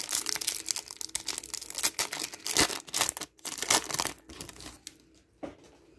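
One Piece OP03 trading card booster packs being ripped open one after another, with bursts of crinkling foil and sharp tearing at close range, without speech.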